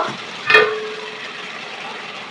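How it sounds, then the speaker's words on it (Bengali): Water poured into a pan of vegetables cooked down in oil for a fish curry gives one sharp burst of hissing near the start, then a fading low simmer, close by with no talk. "এই যে পরিমাণ মতো পানি দিয়ে দিলাম।"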